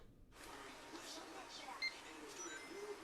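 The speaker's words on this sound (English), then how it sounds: "Why are all of these cash registers using the Sonic the Hedgehog sound effects?" A shop cash register chirps out a few short, bright electronic tones, the Sonic the Hedgehog sound effect, faint and clipped over a quiet room background.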